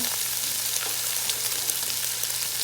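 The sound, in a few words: chopped leeks sizzling as they are added to the pot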